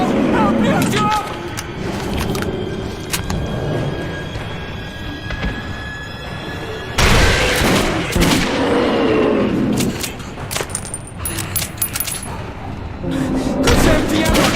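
Gunfire from the video game Metro 2033 Redux, with repeated loud shots and booming blasts over a dense chaotic mix, while in-game voices shout throughout.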